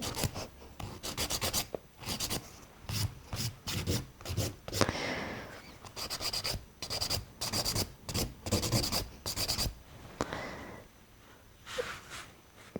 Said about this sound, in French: On va encore le limer un tout petit peu de ce côté, légèrement.